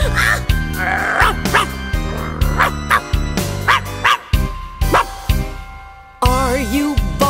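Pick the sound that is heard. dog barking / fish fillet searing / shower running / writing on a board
dog barking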